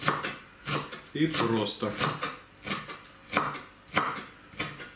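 A knife chops dill and parsley on a cutting board in a series of sharp, fairly regular knocks. A person speaks briefly between the strokes.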